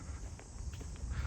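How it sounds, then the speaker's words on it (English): Cicadas buzz around an East York neighbourhood as a steady, faint, high-pitched drone that carries on without a break, with a low background rumble underneath. "so you can hear the cicadas"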